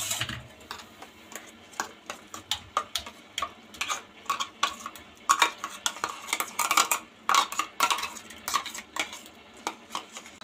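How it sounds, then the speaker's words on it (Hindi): Finely ground bathua (lamb's quarters) paste being scraped from a grinder jar into a bowl, a run of quick, close clinks and scrapes of a utensil against metal and ceramic, uneven in rhythm, with no voices. "तो इसको हम कटोरे में निकाल लेते हैं।"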